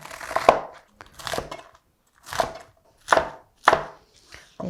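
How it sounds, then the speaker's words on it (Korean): A knife chopping napa cabbage into bite-size pieces on a cutting board: several sharp, close thuds in uneven bursts, separated by short pauses, with no talking. "배추를 먹기 좋은 크기로 잘라주면 돼요"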